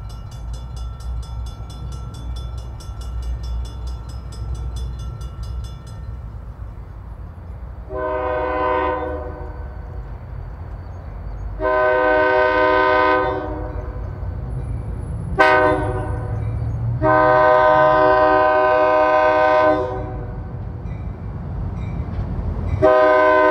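Freight train at the Main Street crossing in Clyde during snow flurries, its horn sounding four loud, long blasts in a crossing pattern over a steady low rumble of the passing train.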